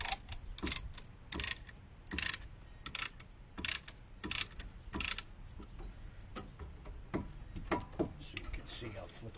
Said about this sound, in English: Then you ratchet it. It depresses the pistons all the way.